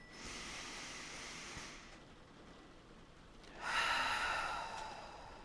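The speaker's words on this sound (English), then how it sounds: "take a nice deep breath with me" A slow deep breath during a guided meditation: a long airy inhale, a pause, then a louder, breathier exhale close to the microphone.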